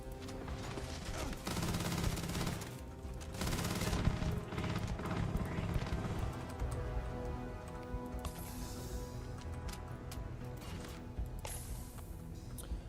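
Gunfire in the sci-fi game Starfield comes as dense volleys of shots mixed with crashes early on, then thins to scattered single bangs and sharp ticks, all fairly close.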